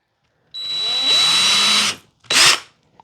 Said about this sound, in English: Now I'm gonna end up using a 332 drill bit to actually drill the kayak.